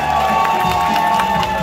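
Crowd at a kids' 1vs1 breaking final at the World Breaking Classic 2024 cheering and shouting, a loud, continuous burst of voices lasting under two seconds.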